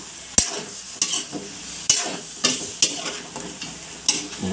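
A utensil stirs sinigang of yellowfin tuna tail and bones in a pot, seasoned with fish sauce and whole peppercorns, giving sharp scraping knocks about once a second over a soft simmering sizzle, close and clear.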